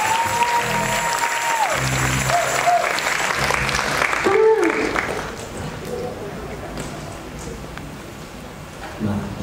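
Audience applause at a live band concert, a dense wash of clapping and crowd noise with someone speaking over it through a microphone, fading somewhat toward the end.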